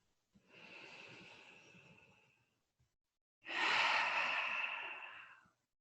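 Two long, slow breaths during a trauma-informed yoga session, a soft airy exhale followed after a pause by a louder, fuller breath, close and alone with no talking.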